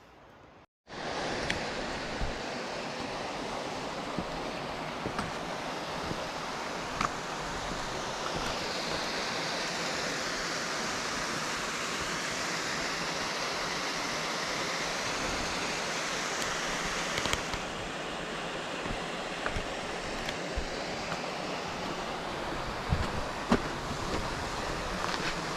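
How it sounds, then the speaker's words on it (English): Pipe Creek Waterfall in the Grand Canyon, a steady broadband roar of falling water that starts abruptly and holds constant and fairly close for the whole stretch, with no speech. "Pipe Creek Waterfall."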